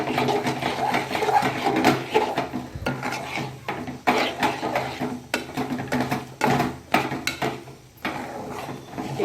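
Flour being stirred into water in a pot while making patvadi: continuous close scraping and stirring with brief pauses, steady and moderately loud throughout, no talk.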